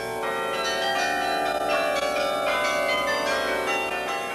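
Smaller bells of the Riverside Church carillon, the Laura Spelman Rockefeller Memorial Carillon of over 74 bells, ring in overlapping sustained tones, bright and resonant, steady and loud with no talking.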